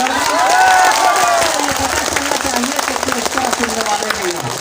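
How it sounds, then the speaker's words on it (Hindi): A crowd at a poetry gathering claps and cheers, the applause mixed with voices and shouting, while a speaker's voice carries over it. "आप अपने तालियों से बता दीजिए आप किस तरह सुन रहे हैं"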